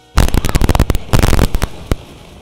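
Rapid bursts of heavy booming ship cannon fire in the game Uncharted Waters Origin, two quick volleys, followed by a single final boom, loud and close, with crackling decay between shots.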